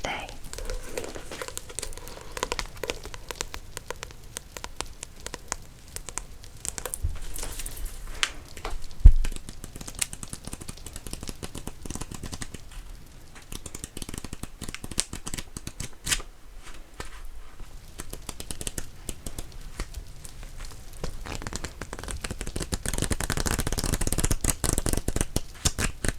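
Manga volumes from a small collection, including Berserk and Animal Crossing, printed on sturdy, good-quality paper, are handled close up, giving continuous crisp rustling, crinkling and flicking with occasional sharper snaps and soft low voice sounds underneath.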